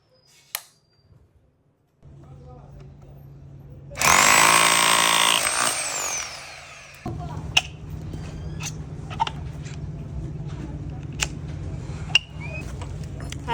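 A hammer drill in a hardware and tools store whirs up briefly with a loud, high whine for about three seconds, then stops. Quiet room noise and scattered clicks follow.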